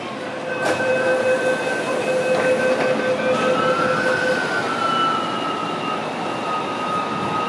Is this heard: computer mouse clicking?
no